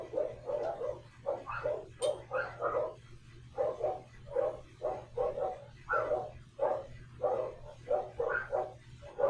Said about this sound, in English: Probably hear my dogs barking